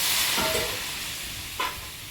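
Fried vegetables sizzle in a pan with a steady hiss, and two brief scraping stirs cut through the close, even frying.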